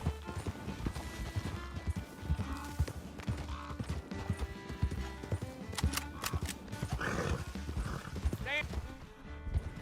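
Hoofbeats of a galloping horse in the open-world western video game Red Dead Redemption 2, a continuous rhythmic clip-clop under game music and ambience, with a voice speaking at times.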